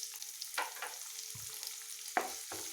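Chopped onion and cumin seeds fry in a pan. A quiet, steady sizzle runs throughout, with a few soft scraping stirs and low knocks against the pan.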